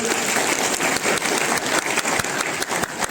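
Audience at a company founding day celebration breaks into loud, dense applause, many hands clapping steadily throughout with a close, full sound.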